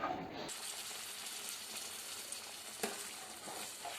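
Boti stock is being mixed into a simmering gojju curry of boti (lamb tripe), a soft bubbling sizzle with scraping stirs and a brief clatter near the end, with no talk.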